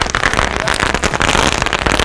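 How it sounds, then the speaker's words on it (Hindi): A string of Diwali firecrackers, a ladi like the chilli-cracker kind, goes off in a dense, rapid crackling barrage, loud and continuous throughout. "ये चल रहा है जो मुर्गा छाप की लड़ी होती है ना, मिर्ची पटाखे वाली, उसकी तरह"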